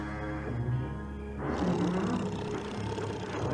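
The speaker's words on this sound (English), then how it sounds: "It was the loudest snoring you ever heard." A loud, rasping snore: a drawn-out rumbling inhale followed by a noisy, roaring exhale, close and heavy.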